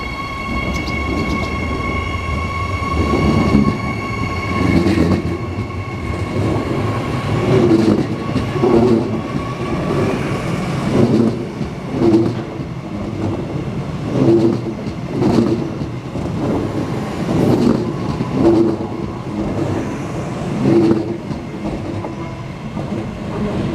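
A train rumbles into a station with rhythmic wheel clatter and a steady low hum, continuous and fairly loud throughout.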